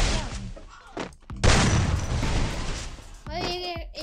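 Free Fire mobile game gunfire in a 1 vs 1 match: a few sharp shots early, then a loud sustained burst of fire with booming impacts, ending with tonal game effects.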